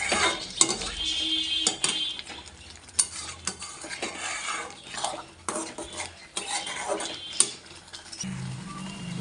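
Taro chili paste stirred in a pan as it dries, repeated scraping and clinking utensil strokes with a light sizzle underneath, close and irregular, no speech.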